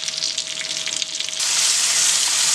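Masala with tomato sizzles steadily in a pan while it is roasted for chicken rara kebab gravy. The hiss grows louder and denser about halfway through.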